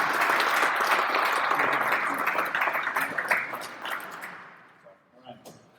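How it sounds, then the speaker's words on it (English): A group of people claps together at a ceremony after a group photo, steady dense applause for most of the stretch before thinning out and stopping, with a few scattered claps at the end. "Oh, and clap."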